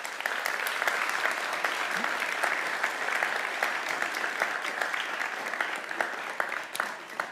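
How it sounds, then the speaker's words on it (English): A large audience applauds supporters, partners and parents at the LISE 2023 event, sustained dense clapping with individual claps crackling through, steady and loud from start to finish. "You deserve a round of applause."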